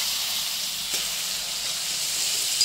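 Onions fry in hot oil for masala pulao, giving a steady, even hiss close by with a faint click near the middle, no voices over it.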